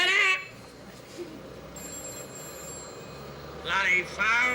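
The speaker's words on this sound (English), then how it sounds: "Bloody phone!" A telephone rings in a 1980s British sitcom setting, two short bursts of bright electronic trilling at the start and end, loud and close, with quiet room tone between the rings.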